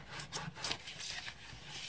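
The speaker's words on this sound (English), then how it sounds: "We'll just use this stylus to burnish the folds." A stylus rubs along the folds of a paper envelope to burnish them, making faint, soft, scratchy strokes that repeat several times close by.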